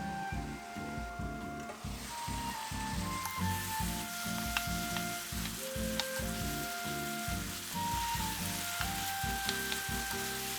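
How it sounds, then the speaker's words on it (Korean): Seasoned pork sizzles loudly in a pan with a splash of water under a lid, a close, continuous crackling hiss with rapid rhythmic pulses and occasional sharp pops, no voices. "물 30ml 정도 넣고 뚜껑 덮고 중불에서 익혀주세요."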